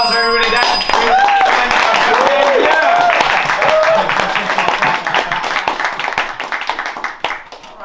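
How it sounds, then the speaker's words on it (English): Loud, sustained audience applause on a game show, with dense clapping filling the room and fading out toward the end, while a voice sings or calls out over it early on. "Let's give a round of applause for everybody."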